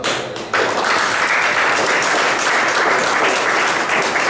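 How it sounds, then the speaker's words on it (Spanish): Applause breaks out at a quinceañera celebration after a church blessing, a dense, steady wash of clapping from a full crowd that swells in after a brief pause and holds loud throughout. "Muchas felicidades, otro fuerte aplauso."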